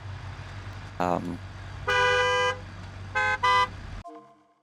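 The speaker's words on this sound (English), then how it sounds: "We'll honk back at everybody." Car horns in the BeamNG driving game honk several times over a low engine hum: a short toot, then a longer blare, then two quick beeps before the engine noise cuts out.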